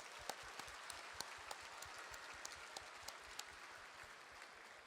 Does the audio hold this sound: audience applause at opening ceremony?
yes